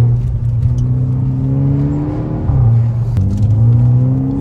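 A Volkswagen Golf 6 GTI Edition 35, Stage 1 tuned with a Remus exhaust and catalyst, drones loudly from inside the cabin, its engine note dipping, then rising again as it revs and pulls.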